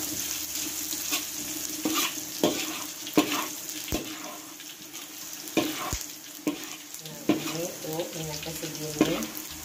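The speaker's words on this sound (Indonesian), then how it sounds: "Jahenya kita tumis terlebih dahulu supaya harum." Ginger is sautéed in a small amount of oil for steamed gourami with sweet soy sauce, giving a soft steady sizzle broken by scattered clinks and scrapes of stirring, fairly quiet and close.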